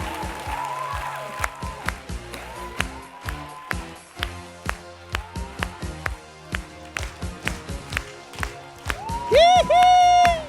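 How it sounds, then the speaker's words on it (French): An audience claps and cheers in scattered bursts and taps, with a long high ringing tone near the end and some talk in between. "Bravo, on les applaudit bien fort."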